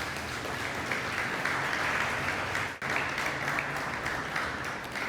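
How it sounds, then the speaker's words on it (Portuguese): Church congregation applauding during a sermon, a steady, fairly distant wash of clapping that runs unbroken throughout. "Dá um aplauso a Jesus."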